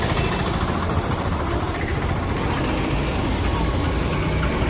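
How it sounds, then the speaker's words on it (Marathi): A farm tractor idles in a village field before threshing work, its engine giving off a steady, loud, unbroken rumble for several seconds, with voices likely mixed in. "आलो ट्रॅक्टर चालू करून जात आहो रास करायला"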